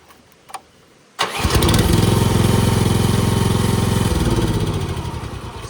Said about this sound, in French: le moteur n'est pas encore chaud